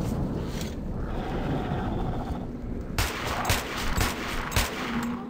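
Sharp gunfire bursts crack over a dense, noisy Metro 2033 Redux game soundscape, several shots in quick succession toward the end.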